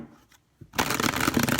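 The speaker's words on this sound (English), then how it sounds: "you shuffle them" A deck of Rider-Waite tarot cards is shuffled close up, a faint tap or two giving way to a loud, continuous riffling flutter of cards.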